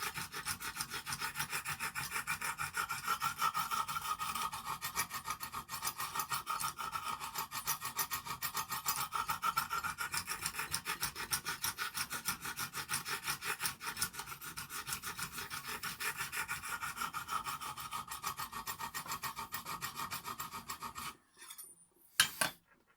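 A knife blade being sharpened on a Lansky guided sharpening system, a steady rapid back-and-forth rasping of stone on steel for about twenty seconds, close and continuous, ending with a few clicks and taps.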